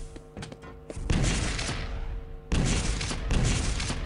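Rocket fire in the Quake Live arena shooter: repeated loud blasts and booming explosions, one burst around a second in, another volley after a short lull, rumbling and close.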